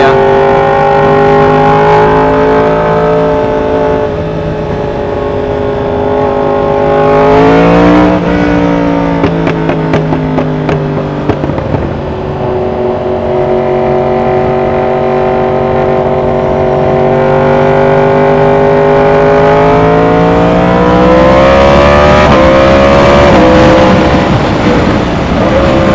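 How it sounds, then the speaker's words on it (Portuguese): A Suzuki GSX-S 1000 motorcycle fitted with a new aftermarket exhaust holds high revs, its loud, steady engine note rising and falling through the throttle changes, close and continuous with no talking. "o som dessa moto na alta é o pipoco"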